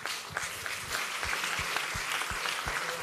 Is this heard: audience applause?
yes